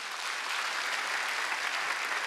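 A church congregation applauds during a Sunday worship service, steady moderately distant clapping that stays even and continuous throughout.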